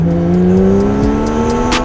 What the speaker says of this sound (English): I can sneak out for a quick drive in my car